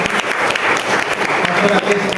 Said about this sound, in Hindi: जोरदार एक ताली बजाइए।